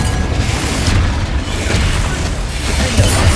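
A Confringo spell in Hogwarts Legacy produces a dense, loud, rumbling fiery blast that fills the whole clip with continuous booming, crackling game effects.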